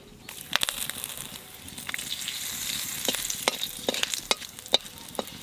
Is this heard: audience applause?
no